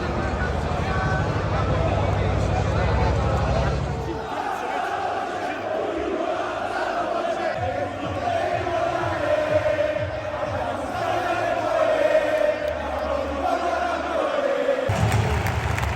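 Football fans chant in the upper Curva B of Napoli's Maradona stadium during a Napoli-Milan match: a loud, sustained massed chant from the stands, with a nearby voice talking over it.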